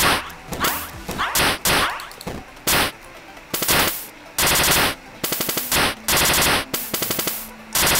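Machine guns fire in the video game Jubilee in sharp, loud bursts of rapid shots, broken by short gaps, with a few swishing sweeps between the volleys.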